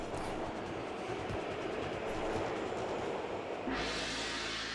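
A train rumbles on continuously in the video game Custom Robo, a dense steady roar with rolling low texture that shifts to a brighter hiss near the end, with no speech.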